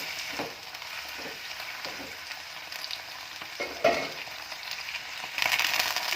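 Chillies and spinach frying in oil in a pan for spinach pulao, a steady close sizzle with occasional stirring scrapes and a louder burst near the end, no voices.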